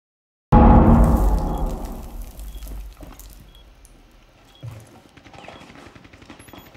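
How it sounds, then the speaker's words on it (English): Gunfire in the video game Rainbow Six Siege: a sudden loud burst of rapid shots that decays into scattered quieter cracks and impacts, with another short burst near the end. "Someone shooting at me."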